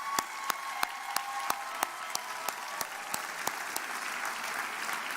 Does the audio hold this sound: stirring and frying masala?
no